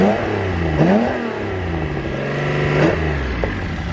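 A Datsun 240Z engine runs close by with a steady idle and two quick rev blips that rise and fall, the first near the start and a second later on.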